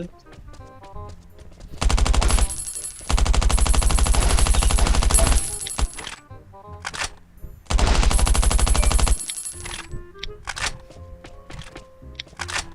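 Automatic gunfire in the survival video game Last Island Survival: two long, loud sustained bursts with scattered single shots and quieter game sounds between, no speech.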